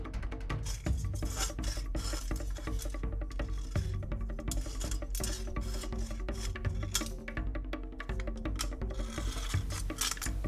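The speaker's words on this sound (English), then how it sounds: "We're going to keep trimming now until we get these down to the size we actually want to work with." Continuous scraping and rasping as rough, jagged edges are trimmed down to size while making a cooking-oil lamp, a steady close gritty rubbing with rhythmic strokes and no pauses.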